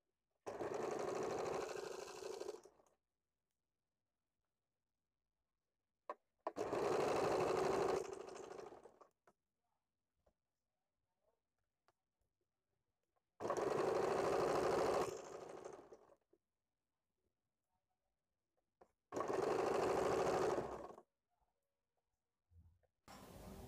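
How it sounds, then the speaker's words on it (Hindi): Sewing machine stitching the black lining of a blouse in four separate bursts of about two to three seconds each, with quiet gaps between runs; close and steady. "पूरा घुमा के मैं सिलाई लगा लूँगी।"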